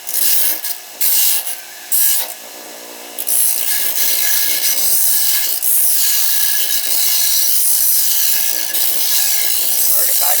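Steel lock-pick blanks being hand-filed to remove teeth, heard as a close, loud, rhythmic back-and-forth rasp. A few short strokes come first, then a long, continuous filing run.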